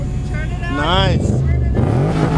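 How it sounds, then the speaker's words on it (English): Car engine at a Toyota car meet, a strong rumbling idle swelling into a louder, sustained rev, heard close by while people talk and exclaim over it. "Hear that fuel pump. That's the soundtrack I want to hear."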